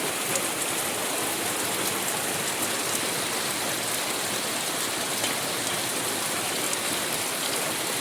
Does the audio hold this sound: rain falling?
yes